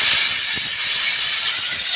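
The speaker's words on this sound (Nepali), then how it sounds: "सिटी गएको छ होइन, सिटी गइसक्यो।" A pressure cooker on an open fire releases steam through its whistle, a loud continuous high hiss that runs steadily for about two seconds, close by and alone.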